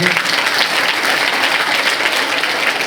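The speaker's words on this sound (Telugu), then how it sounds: "అందరికీ క్లాప్స్ ఇవ్వండి ఒకసారి." An audience of students at a motivational music-and-meditation session in a girls' junior and degree college claps together. The applause is dense, even and sustained, and it fills the whole moment without any talk.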